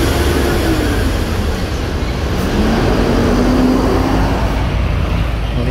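An intercity bus on the Jakarta–Surabaya route passes by on a busy roadside, a continuous loud roar of engine and tyres swelling and fading amid steady traffic noise.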